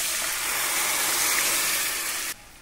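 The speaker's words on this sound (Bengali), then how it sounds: "এবার দিয়ে দিচ্ছি সেদ্ধ করা মুসুরির ডাল।" Boiled red lentils pour into a pan of reddish cooking base for a Bengali curry, giving a steady, close, liquid gushing splash that runs evenly for about two seconds before cutting off abruptly.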